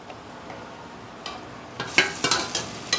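Tomatoes frying in oil with turmeric for a mutton lung fry, a faint low sizzle that gives way to several sharp scraping stirs against the pan toward the end, no voices.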